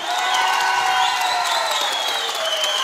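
An audience at a stage performance claps steadily and loudly, with cheering and whoops mixed into the dense applause for the few seconds it lasts.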